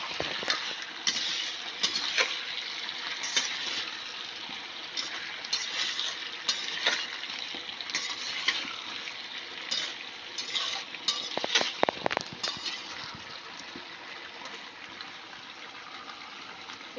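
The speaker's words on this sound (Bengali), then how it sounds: "এবার একটু নেড়ে চেড়ে নেব।" Chicken, fried potatoes, onion, tomato and green chilli stirred in a pan for chicken kosha, with a continuous sizzle broken by frequent scraping and clinking of the spatula against the metal, close and busy.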